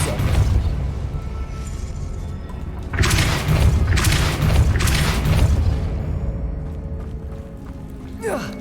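Depulso spell cast in Hogwarts Legacy: a heavy low rumbling boom followed by two sharp bursting thuds a few seconds in. The sound is loud and close and fades to a softer tail.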